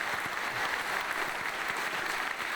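A continuous wash of clapping hands, a steady round of applause filling the whole moment with no voices over it.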